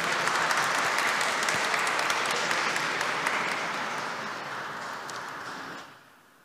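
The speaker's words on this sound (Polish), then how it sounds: "Brawa, dobra." Audience at a Polish fathers' spiritual retreat applauding after a man named Darek finishes speaking: dense, steady clapping from many hands fills the room, holds evenly, then tapers off and stops near the end.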